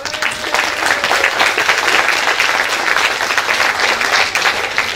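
Sustained applause from a crowd at a New Year's Eve party, dense and even throughout, welcoming a person being introduced.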